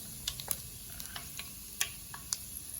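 Cumin, mustard and fenugreek seeds crackle in hot oil in a bowl off the stove, a faint low bed with scattered sharp pops and ticks.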